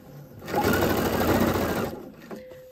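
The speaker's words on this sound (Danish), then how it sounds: "Og igen syr jeg midt imellem rynketrådene." A sewing machine runs steadily for about a second and a half, stitching fabric between gathering threads for a puffed balloon sleeve, close and loud, then stops with a short click. No one speaks.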